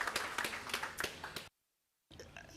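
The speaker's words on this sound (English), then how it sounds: "Another round of applause, please, for the City Manager for the City of Cape Town" Live audience clapping at an urban mobility summit in Cape Town honouring the City Manager, a dense run of hand claps that cuts out abruptly, then resumes after a short silence.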